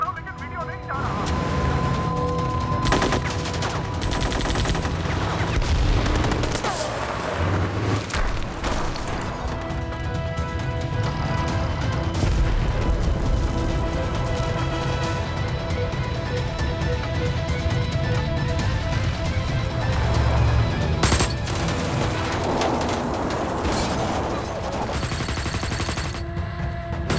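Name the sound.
gunfire in a war film battle scene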